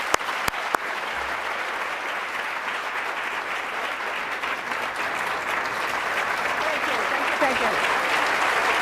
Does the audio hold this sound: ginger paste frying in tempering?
no